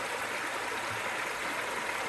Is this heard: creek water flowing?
yes